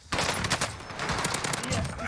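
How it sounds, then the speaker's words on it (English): Rapid bursts of automatic fire from a Krig 6 rifle on Rebirth Island in Call of Duty Warzone, loud and close, rattling in quick succession across the whole moment with a voice underneath. "I'll handle the shooting."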